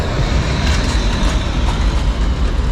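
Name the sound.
tram passing through Zagreb city center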